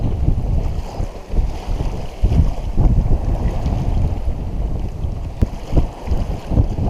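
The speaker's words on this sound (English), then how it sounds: "Alright, now we're sailing." A Tartan 37 sailboat under reefed sails crossing the Gulf Stream in rough seas, with steady rushing wind and water noise, buffeting against the microphone and occasional slaps from the waves.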